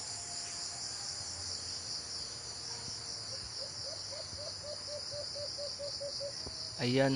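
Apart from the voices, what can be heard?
pet bird singing its call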